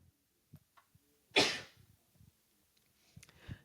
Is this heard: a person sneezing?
yes